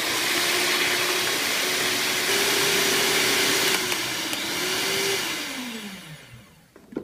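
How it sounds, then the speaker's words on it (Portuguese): An electric stand mixer whips egg whites toward stiff peaks, a loud, steady motor whine with a continuous rushing hum whose pitch shifts slightly before it winds down at the end. "Na batedeira, nós vamos colocar primeiro as claras e vamos bater em neve."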